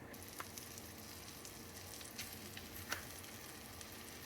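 Boneless skinless chicken breasts sizzle faintly in hot browned butter in a pan, a soft steady crackle broken by a few small pops and clicks, with no talking.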